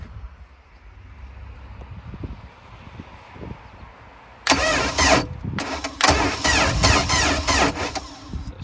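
An old boat engine is cranked over: low rumbling handling noise first, then an electric starter whirs loudly and steadily, pausing briefly once before spinning on again, close by with no speech.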